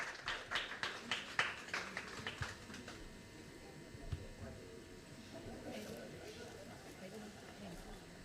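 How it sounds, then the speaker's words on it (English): A few scattered hand claps ring out for a family at the Joy of Giving Foundation's seventh anniversary celebration, fading after a few seconds as a voice carries on talking over a murmuring room. "a huge round of applause for Mr. Jose Dario Fernandes and his family"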